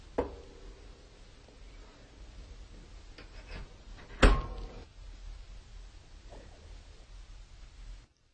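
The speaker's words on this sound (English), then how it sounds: "I'll set the air control fully open and close the door" The loading door of an EPA wood stove swings shut with one brief, sharp metallic clunk midway through, amid quieter clicks and handling noises in a calm room.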